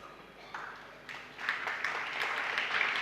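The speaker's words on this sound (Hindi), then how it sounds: "अभी ताली क्यों बजा दी?" An audience at a Jain religious sermon bursts into scattered clapping that builds into steady applause, moderately close in a hall.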